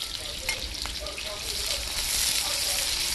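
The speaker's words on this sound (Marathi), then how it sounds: "तेल कापला आहे आपण त्यामध्ये कांदा टाकून घ्यायचा आहे" Onion dropped into hot oil in a home kitchen pan, a bright continuous sizzle that swells slightly toward the end, with a couple of clinks of a utensil, close and fairly quiet.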